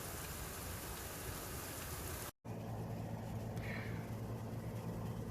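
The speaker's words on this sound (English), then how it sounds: "So yeah, we finally got rain." Rain falls steadily outdoors, a dense broadband hiss that stays even throughout, with a brief dropout in the middle and a faint low hum underneath in the second half.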